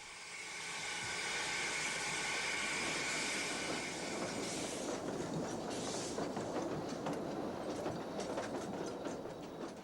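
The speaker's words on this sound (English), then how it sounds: "The southbound train drifts out of the station, the compound Mallet tank making easy work of the falling grades" Narrow-gauge train hauled by a compound Mallet tank locomotive drifting out of a station on falling grades, a steady loud rolling rumble with hiss and rhythmic clickety-clack of wheels over rail joints throughout.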